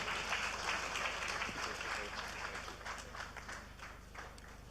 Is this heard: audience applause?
yes